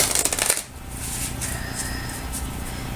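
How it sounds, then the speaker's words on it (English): A deck of cards riffled in a quick burst of crisp, rapid flutters at close range during a tarot-style reading, then settling into a soft, steady hiss of handling with no one talking. "So I already cleared the deck, and I'm just going to give them a little shuffle here."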